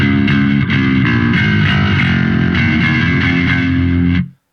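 A bass guitar played through a Boss metalcore distortion pedal on a pedalboard preamp, notes changing steadily in a thick, fuzzy drone that cuts off abruptly at the end.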